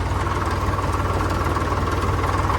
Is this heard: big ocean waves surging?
no